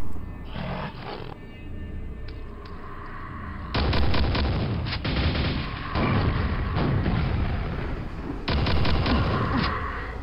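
Rocket launcher fire in Quake with the Dwell mod: a string of loud, heavy booms and blasts, several overlapping explosive bursts spaced a second or two apart against continuous game noise.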